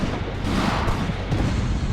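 Heavy gunfire and artillery crash without pause on a World War II battlefield around enemy trenches, a dense, loud, continuous roar of shots and booms.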